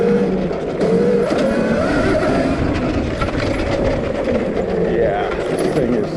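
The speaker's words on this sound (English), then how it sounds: "There's such different noises, not just the engine whine, but you can hear the chain slapping, and you can hear any little rocks get thrown up." A Velimotor VMX3000 electric enduro bike rides steadily with a constant motor whine, chain slapping and rough rolling noise throughout, loud and close with no pauses.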